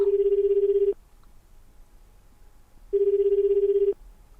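An unanswered telephone rings in two long electronic bursts about a second each, separated by a two-second gap, clear and close over a quiet low hum.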